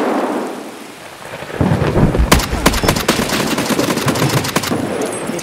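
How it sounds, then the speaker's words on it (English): Rapid bursts of gunfire in a firefight in the video game Escape From Tarkov, made up of loud, sharp cracks that repeat in quick succession over a rumbling background. "I was shooting at him as well"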